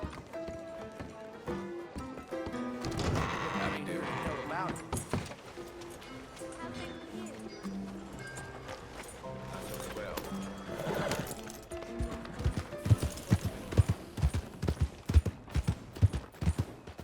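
A horse in Red Dead Redemption 2 gives a loud whinny, then its hooves clip-clop in a quick rhythmic run, with game voices and background score around it.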